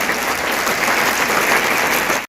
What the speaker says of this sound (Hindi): तो इस बात की ताली बजानी चाहिए ना